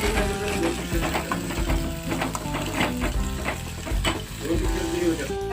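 Chopped onion frying in a pan for a Marathi vegetable curry, a continuous close sizzle broken by scraping and stirring clatter from a spatula, with no talk.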